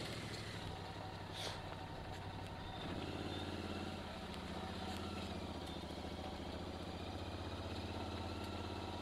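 A 650cc motorcycle engine idles with a steady low rumble on a snowy mountain road between Kishtwar and Kashmir, then the pitch rises slightly as it revs, continuing without anyone speaking.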